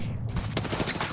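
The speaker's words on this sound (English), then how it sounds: "They're shooting at me." Gunfire in the battle royale shooter Apex Legends, a dense, loud burst of rapid shots packed into about a second with no pause.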